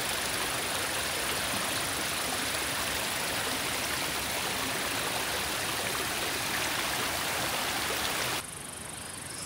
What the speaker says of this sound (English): Here's what the bridge looks like with the waterfall.